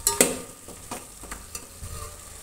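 Pre-boiled goat trotters, seasoned with salt and turmeric, sizzle in a pan as they are stirred, with a few sharp scrapes and clinks of the spatula over a low, steady frying hiss.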